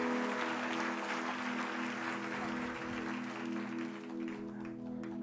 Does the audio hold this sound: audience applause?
yes